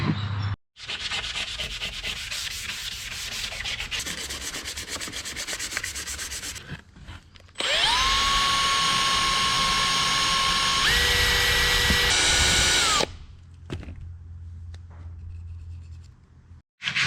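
Loud, steady power sanding of an ex-army Unimog cab with a high whine that shifts pitch partway through, running continuously with brief pauses and no talking.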